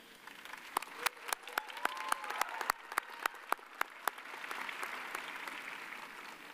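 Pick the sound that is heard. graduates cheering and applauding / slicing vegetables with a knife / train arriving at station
graduates cheering and applauding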